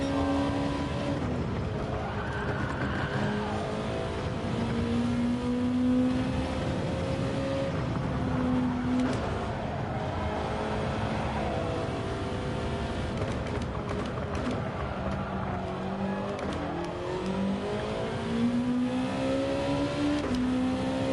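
Race car engine in Gran Turismo 7 revving up and down through repeated gear shifts, the whine climbing and dropping in steps, with steady road and tyre noise and no talking.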